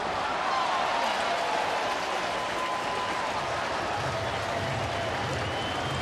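A baseball stadium crowd stands and cheers at a night game between San Diego and Cincinnati, awaiting the final out. The roar is steady and broadband across the whole stretch, with scattered applause and no clear talk over it.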